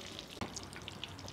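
Butter and a little oil sizzle steadily in a pan, a soft crackling hiss with scattered pops and a small clink of a utensil, close and quiet with no talking.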